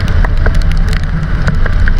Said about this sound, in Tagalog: Medyo maulan pa din pero